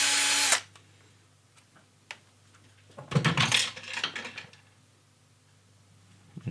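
A power drill bores a 1.5 millimeter hole in preparation for threading, with a brief high whir at the start, scattered small clicks and handling noises, then a louder burst of grinding and scraping in the middle.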